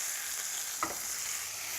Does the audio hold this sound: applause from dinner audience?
no